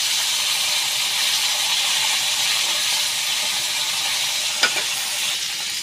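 Pieces of rohu fish sizzle and hiss steadily in hot oil, a dense, even frying sound with one brief clatter near the end and no talking.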